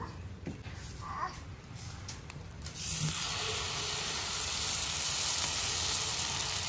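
Oil sizzles on a hot dosa griddle, a soft hiss that swells after a few seconds and then holds steady and fairly close.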